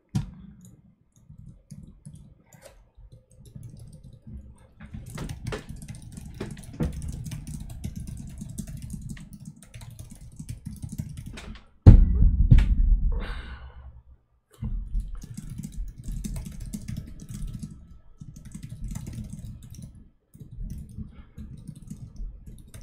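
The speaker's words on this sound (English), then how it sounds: "I'm just typing in the Discord" Someone types on a computer keyboard in quiet, irregular bursts of clicking keystrokes, with one heavier thump of keys partway through.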